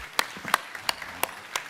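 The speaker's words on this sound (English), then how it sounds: "Give yourselves a round of applause." Sparse clapping from a small conference audience, about five distinct, evenly spaced claps over under two seconds, fairly faint against a quiet room.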